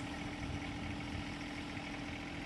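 A John Deere compact tractor engine runs at a steady idle, a constant low mechanical drone with even vibration and no speech.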